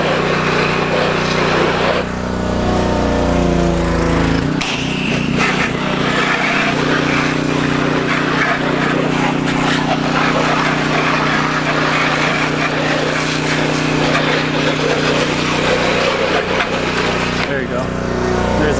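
A pressure washer spraying the outside of a house, its motor running with a steady high-pitched drone that shifts tone as the spray starts, loud and constant throughout.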